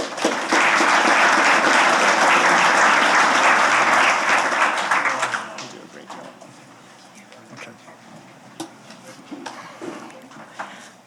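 Audience applause at a safety conference greets a speaker as she takes the stage: loud, dense clapping for about five seconds, then fading to a few scattered claps and stage noise.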